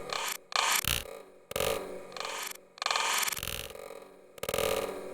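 A slowed-down sample played through Ableton Live's Texture warp mode, heard as a series of grainy, rasping, stuttering bursts with abrupt starts and gaps, loud and close with no voice over it.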